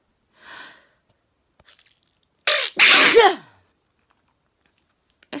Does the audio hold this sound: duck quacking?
no